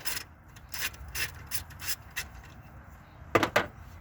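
Wrench ratcheting and scraping on a 10 mm alternator bracket bolt of a 2003 Lincoln Town Car, in short bursts of clicking strokes, close and quiet, ending with two sharper metallic rasps.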